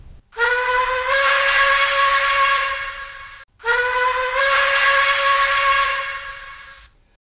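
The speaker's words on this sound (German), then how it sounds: "F3 Dampfpfeife lang." Long steam whistle on a PIKO BR 82 N scale tank locomotive model, sounding two sustained, bright, loud blasts of about three seconds each, each tapering off with a breathy hiss.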